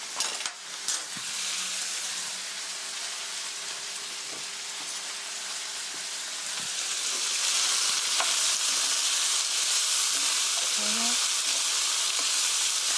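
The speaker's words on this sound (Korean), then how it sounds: "카레가루도 한 큰술, 커리 한 큰술 이렇게 넣어서 같이 볶아주세요" Pork and curry powder stir-fry in a pan with a loud, steady sizzle that swells slightly toward the end, with a few utensil clicks and scrapes near the start.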